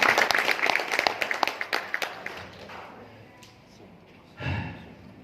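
An audience at a success-story talk claps in a burst of applause, loud at first and thinning out within a few seconds, followed by quiet and a brief low rumble.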